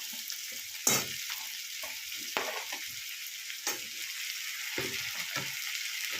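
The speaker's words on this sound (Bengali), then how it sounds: "এই সময় আমি এখানে মাছের মাথাটাও দিয়ে দেবো" A bhetki fish head fries in a pan with a steady bright sizzle, close and continuous, punctuated by occasional spatters and stirring knocks.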